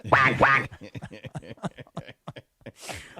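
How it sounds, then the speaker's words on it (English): Two loud, nasal duck quacks from a sound effect open the moment, followed immediately by quick speech from a person. "Quack, quack for the kids who may be staying home from school."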